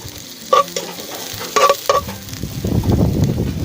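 A little oil heating for sautéing tomatoes, with a few sharp utensil taps on the pan before a rising, grainy sizzle takes over in the last second or so.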